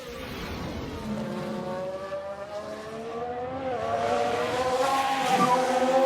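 A car spinning out on track in F1 Manager with a 1991 mod: a steady, close engine whine rising and falling in pitch, building louder toward a sharp sweep near the end.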